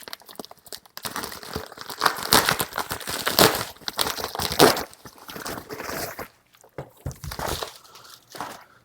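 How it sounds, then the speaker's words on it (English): Plastic and cardboard packaging of a Samsung Galaxy Tab S9 Ultra tablet crinkles, tears and rustles in quick bursts, with brief pauses between handling sounds and no talking. "Let's go ahead and open this bad boy up."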